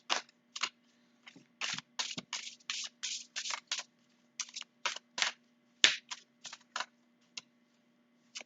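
Tarot cards are shuffled in quick, crisp bursts, sharp riffling snaps and slaps coming in an irregular run of short strokes, close and clear against a faint steady hum.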